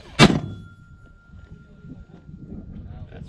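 A single USMC 60mm mortar round firing, a loud sharp boom up close that quickly fades into low rumbling and faint outdoor background noise.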